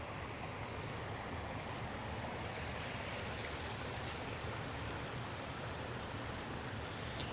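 Steady broadband rush of Nimblewheel Creek flowing past a flat camping area along the Chattahoochee backcountry route, continuous and close, with no voices.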